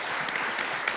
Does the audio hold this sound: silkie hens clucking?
no